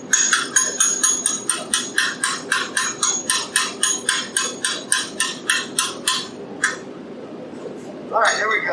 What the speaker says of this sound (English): I'll hammer on it first, then we'll take it to that.